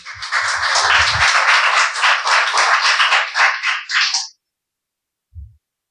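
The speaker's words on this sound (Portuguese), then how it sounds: "Você pode aplaudir o Senhor nesta noite?" A church congregation claps during an evening service, dense rhythmic applause that holds strongly for about four seconds and then cuts off abruptly into silence, followed by a single faint low thump.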